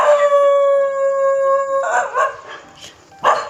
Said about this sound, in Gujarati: મોટા કૂતરા હે બે કૂતરા હે